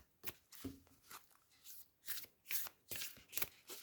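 Tarot cards are handled and riffled in a quick series of crisp papery bursts, close and fairly quiet, with nobody speaking.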